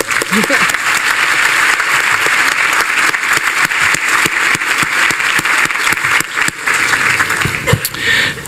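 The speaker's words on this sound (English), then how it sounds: "so we'll still give her some applause anyway" Sustained, dense applause fills the room at a nursing pinning ceremony, many hands clapping steadily and loudly throughout with no pause.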